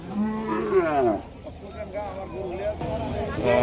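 A cow lows loudly and close, a drawn-out moo under a noisy crowd of talking voices at a livestock market.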